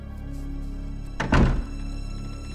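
A door opens in the video game Resident Evil 2, giving one heavy, resonant thunk midway over a constant low game ambience.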